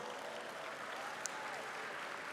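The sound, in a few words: convention audience applauding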